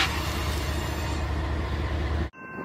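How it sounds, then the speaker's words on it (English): A CN sand train rolls slowly into Lincoln on the Creston line, giving a steady, dense rumble and grind of heavy railcars close by before it cuts off abruptly near the end. "a CN Sand train can be seen crawling into Lincoln on the Creston"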